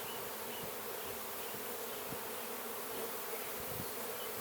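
Steady, dense buzzing of bees around an open beehive with capped honey frames, a close continuous drone with a wasp among them, no voices.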